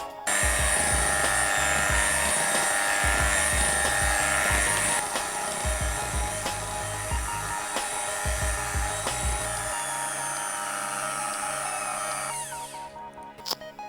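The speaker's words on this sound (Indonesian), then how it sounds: "Mixer lagi hingga merata." An electric hand mixer whirs steadily as it beats lapis legit cake batter with sweetened condensed milk, a loud continuous motor drone with slight rattling that runs about twelve seconds before switching off.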